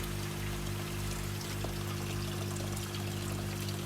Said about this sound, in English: You can hear the water flowing back in again there.